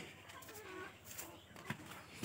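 Domestic desi hens on a small backyard poultry farm cluck softly and intermittently at a distance, faint against a low background hiss.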